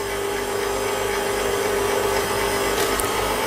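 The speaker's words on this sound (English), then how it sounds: "you can hear the motor starting to struggle a little bit" A kitchen mixer motor beating icing sugar for a lemon and poppy seed cake whines steadily and close, its low tone laboring under the load.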